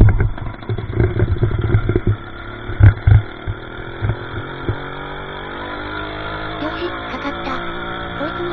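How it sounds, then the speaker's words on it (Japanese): A cafe racer motorcycle with CDI ignition, heard up close as the engine fires and revs in uneven bursts for the first few seconds before settling into a lower, steadier idle. "こいつはオートバイ。 走らせようか。"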